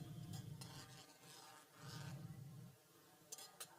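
Water bubbling at a boil in a pot on a stove, a soft continuous simmering burble with brief clinks near the end, no talking.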